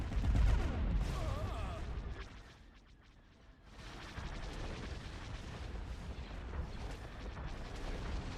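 Ship cannons fire in a space strategy video game, a dense, continuous barrage of booming, rumbling volleys with a brief lull near the middle before the heavy fire resumes.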